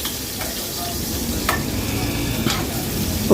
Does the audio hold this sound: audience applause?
no